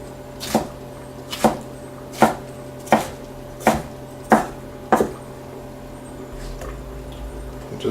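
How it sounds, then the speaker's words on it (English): A knife chops through sliced beef tongue on a cutting board in about seven sharp, evenly spaced strikes, close and crisp, followed by a few fainter taps and no talking. "I'm going to slice them the long way again. And then chop."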